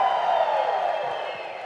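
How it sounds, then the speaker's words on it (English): An audience at a business coach's keynote stands and cheers loudly on cue, a dense roar of voices and whoops that stays strong and steady for the whole stretch. "let's just give as loud as we can, big cheer on the count of 3"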